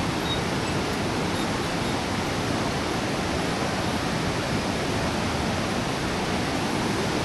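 Stream water rushes beside a hiking trail in a dense, constant roar that stays close and loud throughout, with no voices over it.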